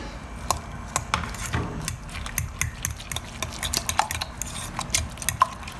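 Whisking a mixture with chopped yellow and red capsicum in a bowl, rapid clinking of the utensil against the side in an uneven, steady rhythm, close and clear with no talking.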